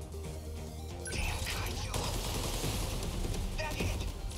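Multi-rocket launcher barrage in the game 13 Sentinels: Aegis Rim, a dense continuous roar of blasts and crashes that swells after the first second and holds loud to the end.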